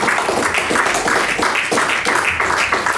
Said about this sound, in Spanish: Dele palmas.